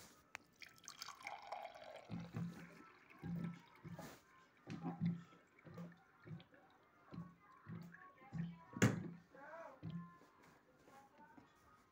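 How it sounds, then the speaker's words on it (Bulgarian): Water poured in short bursts and drips, a series of quiet splashes and trickles recurring roughly every second at close range, with a voice talking at times. "И сега сипваме вода."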